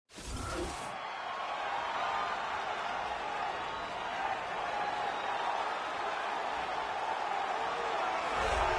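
Broad, steady roar of an arena crowd cheering as a middleweight fighter walks out to the octagon in UFC 3, holding at full loudness for the whole stretch with no talk over it.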